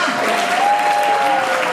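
Audience applause fills a university mushaira hall, a steady dense wash of many hands clapping, loud and continuous, with a voice faintly over it.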